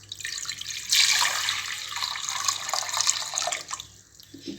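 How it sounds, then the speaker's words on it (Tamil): Water pours steadily from a tumbler into a heated pressure cooker while cooking pearl millet pongal, a close splashing stream that swells after the first second, then thins and trickles toward the end. "இதில் இப்போ 3 டம்ளர் தண்ணி ஆட் பண்ணிக்கிறேன்."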